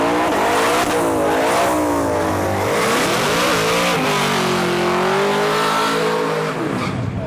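Race cars roar down a drag strip at a Quick Street event, loud engines revving and shifting pitch continuously with tire squeal mixed in, close and sustained throughout.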